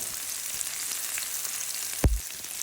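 Onions sizzle softly in a pan with a steady, faint frying hiss, and one sharp knock near the end as a utensil hits the pan.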